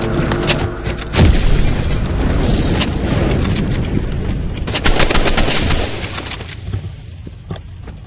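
Gunfire in the video game Rivals, dense bursts of rapid shots and booming impacts, loud and close, in a continuous barrage that thins out toward the end.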